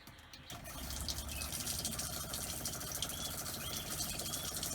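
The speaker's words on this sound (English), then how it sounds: "Just going to run a good load of water through so that we can see if it is still leaking at the pump." Water runs through motorhome taps driven by the habitation water pump after a pump leak repair, a steady close splashing flow with dripping and spluttering over a faint low hum.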